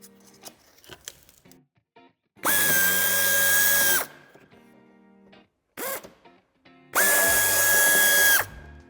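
Power tool unscrewing a bolt on a 2024 BMW X2 during a tow hitch installation, two loud sustained whirring bursts with a short blip between, close up, separated by quieter clicks and handling noises.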